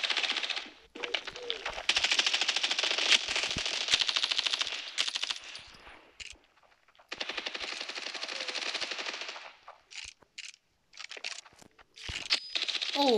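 M16 rifle firing in the mobile shooter Standoff 2: rapid full-auto bursts crackling in long stretches, broken by short pauses and a few quiet gaps, loud and close.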